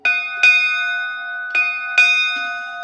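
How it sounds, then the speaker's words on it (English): A ship's bell aboard the WWII warship HMAS Castlemaine rings in clear paired strikes, two quick clangs, a pause, then two more, each tone ringing on brightly and loud without speech. "a ship's bell was used at the changeover of watches"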